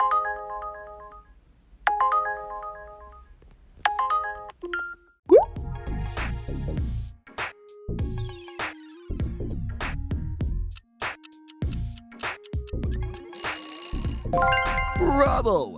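A few short twinkling electronic tone bursts, then a dense run of bright synthetic notes and blips, the Uber app notification sound, loud and close.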